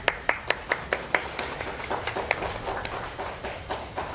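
An audience at a live speedrunning event for the game Ys VIII: Lacrimosa of Dana claps, starting with distinct rhythmic hand claps that blend into a looser, scattered round of applause.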